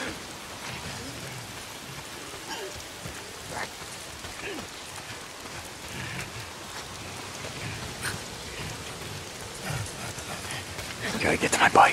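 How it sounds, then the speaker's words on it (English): Rain falls steadily and softly in the video game Days Gone, a continuous hiss with scattered drops that swells slightly near the end. "If it's not the freaks, it's the goddamn rain. Why is it always raining?"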